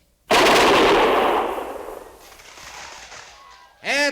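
Rifle volley from a firing squad in an old-time radio western drama set at a frontier fort: a sudden loud crack-and-roar of massed gunfire that decays over a few seconds, followed by a brief high ringing ricochet-like tone at the end.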